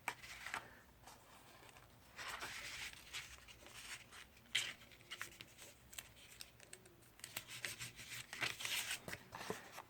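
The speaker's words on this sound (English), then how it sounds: "I'm going to go and tape that to the back of my crumb cake." Tape is stuck to the back of a crumb cake craft piece, faint close rubbing, scratching and paper handling with soft taps and crinkles in an otherwise quiet room.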